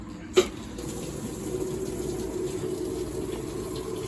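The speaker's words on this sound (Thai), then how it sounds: "ตอนนี้ก็ทดลองเปิดโปรแกรมซักนะครับ แล้วก็เดี๋ยว ปล่อยน้ำเข้าครับ" Inverter washing machine starting its wash program, with a click and then water flowing steadily into the drum as a soft continuous rush.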